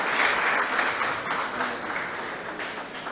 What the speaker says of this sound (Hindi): एक बार प्लीज जोरदार तालियां आपकी।